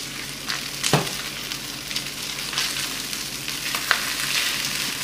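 Garlic, peppers and adobo vegetables being stirred into pulled pork in a hot pan, with a steady soft sizzle and occasional scraping stir strokes, close and alone.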